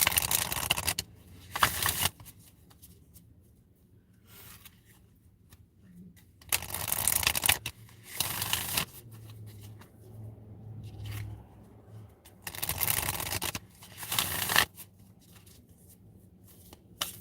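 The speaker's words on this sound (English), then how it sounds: "let me shuffle and get you a card here" Oracle cards being shuffled in several quick, crisp riffling bursts separated by quiet pauses, close and fairly soft.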